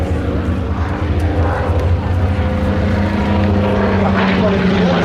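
A propeller warplane drones loudly overhead at the La Ferté-Alais air show, a steady rumbling engine roar that swells slightly, with someone talking over it.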